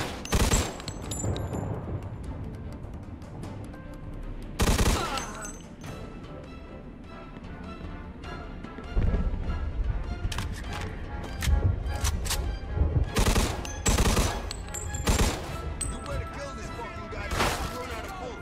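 Gunfire in the crime shooter Mafia 2: Definitive Edition, with repeated loud bursts of shots and bangs separated by quieter stretches, set against game ambience.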